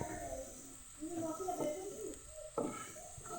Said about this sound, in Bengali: মিডিয়াম লো আঁচে ভাজছি।